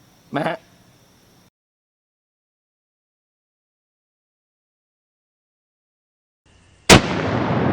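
A single sharp, loud crack from a deer hunting rifle on public land, heard after a short burst and a long silence, with a reverberating outdoor tail.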